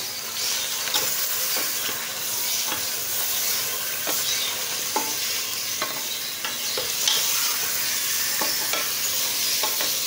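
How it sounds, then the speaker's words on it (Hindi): Mutton pieces fry in a pot for Peshawari namkeen gosht while being stirred, giving a steady close sizzle with a hissing wash and faint scraping clicks from the spoon throughout. "अब हम इसकी 10 मिनट तक अच्छे से भुनाई कर लेंगे।"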